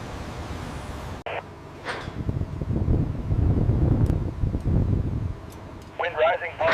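Rising wind at a large industrial chiller installation site buffets the microphone as a loud low rumble that swells and gusts, with a sharp break early on and faint voices or other sounds mixed in near the end.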